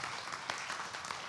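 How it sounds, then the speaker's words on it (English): A church congregation applauding at a Sunday celebration service, a steady wash of many hands clapping together, moderately loud, with a few distinct claps standing out. "let's give a round of applause for that"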